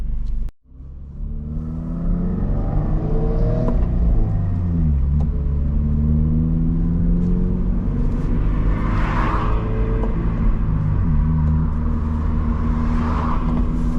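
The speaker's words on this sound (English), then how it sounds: "these cars are meant to be rev, so I just accepted it and I just rev it" A Subaru BRZ with a loud setup revs while driving, heard from inside the cabin, a deep rumbling engine climbing and dropping through the gears, continuous and close, without talk.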